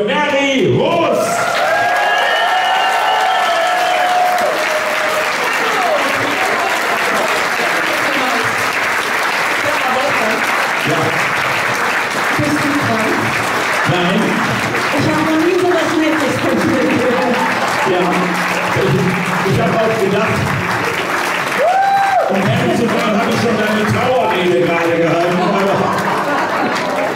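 Audience applause at the Smago Award ceremony celebrating 50 years of ZDF Hitparade, loud sustained clapping from a large standing crowd with cheers, a presenter's voice speaking over it at times.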